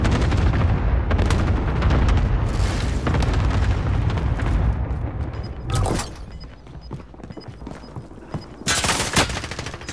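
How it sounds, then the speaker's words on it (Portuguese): Dense gunfire and heavy explosions from the Call of Duty: Modern Warfare video game rattle continuously, with rapid bursts and booms, a brief lull, then a final loud volley. "Sob fogo aqui!"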